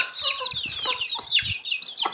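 A chicken clucks nearby in a run of short, excited calls, with scattered rustling and a few low thumps beneath them.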